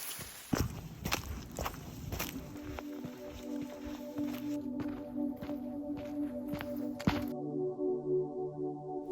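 Footsteps on a forest trail above a waterfall: a series of irregular crunching steps, fairly quiet and close, with a steady tonal hum running under them and no talking.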